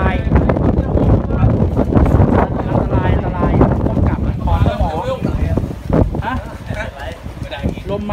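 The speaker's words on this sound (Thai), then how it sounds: "ลมมานะ" Strong wind buffets a boat out at sea, a loud steady roar with gusty bursts that continues throughout, mixed with voices and the rumble of the boat.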